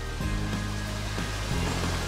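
A small waterfall with a low flow spills into a canal, giving a steady, even rush of water with no voices.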